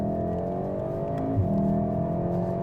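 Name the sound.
VW Golf R engine in race mode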